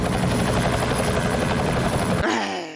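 A helicopter in a film scene makes a loud, close, steady rotor thrum with a buzzing whine, then cuts off abruptly into a brief fading ring.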